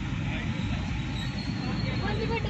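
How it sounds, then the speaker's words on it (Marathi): Dense crowd and traffic noise on the busy main market street of Baramati near the bus stand, a steady loud roadway rumble with overlapping babble of many voices and passing vehicles. "आमच्या बारामतीची मेन पेटाची गर्दी."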